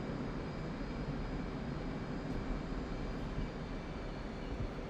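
Steady broadband roar of a fighter jet engine in flight within a flight-simulator game, a continuous even drone held throughout with no talk over it.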